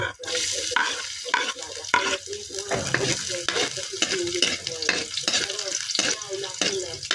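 Garlic and aromatics sauté in a pan, a bright continuous sizzle punctuated by rhythmic scraping stir strokes, close and steady throughout.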